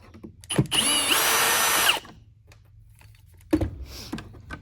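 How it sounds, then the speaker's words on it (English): Power screwdriver backing out a retainer screw on a Hoover Tempo upright vacuum, a single close, loud whirring spin of about one and a half seconds, with small plastic clicks and handling knocks around it. "We'll go ahead and undo this screw."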